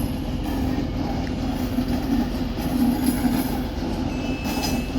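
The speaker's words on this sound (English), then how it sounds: "As these Pendolinos just depart." Pendolino trains depart Manchester Piccadilly with a steady low rumble of rolling wheels and a faint high squeal near the end, close and continuous, with no talking.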